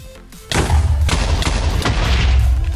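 End crystals exploding in Minecraft, a rapid run of loud booming blasts that begins abruptly and keeps going with heavy thumps and rumble.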